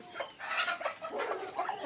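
Several Tiger breed hens cluck close by on a farm in a steady, overlapping chatter, with a few sharper calls rising above the flock.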